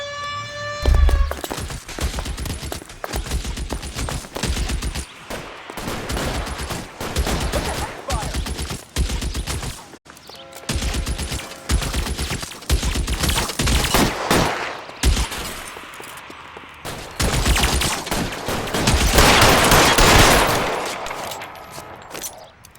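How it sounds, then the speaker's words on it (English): Sustained gunfire in a shootout in the L.A. Noire video game: dense, rapid volleys of loud shots, some in quick automatic bursts, running almost without a break and briefly pausing midway. "These guys aren't gonna go quietly. Open fire!"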